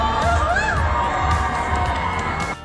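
A large crowd shouts and cheers loudly and continuously, with high excited voices filling the space for a few seconds before it cuts off.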